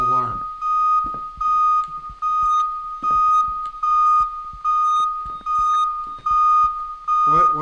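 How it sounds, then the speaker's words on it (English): Alarm blaring in the Minds Eyes video game: a loud, piercing electronic tone pulsing in repeated bursts of roughly a second each, with brief voice sounds at the start and end. "There's an alarm."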